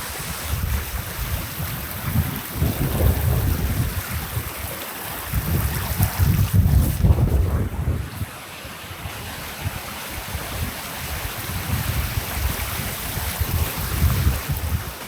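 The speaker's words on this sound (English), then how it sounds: "Right, windy, wet through." Strong wind buffeting the microphone during a rainstorm on a wild camping trip, with continuous roaring gusts that swell and ease in waves for the whole stretch and no talking.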